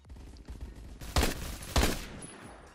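SCAR rifle fire in the Phantom Forces video game: two loud close bursts of rapid automatic shots about half a second apart, following quieter handling noise, with no talk.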